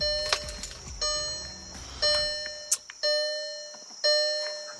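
A 2017 VW Jetta's door-open warning chime repeats as steady bell-like dings about once per second, bright and close inside the cabin, with a faint click and low rumble early on.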